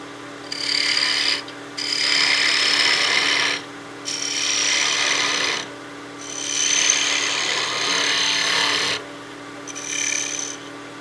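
A wooden birdhouse ornament spins on a lathe as a tool cuts it down, giving a hissing, rasping scrape in several bursts of a second or two separated by short pauses, over a steady motor hum; close, no talking.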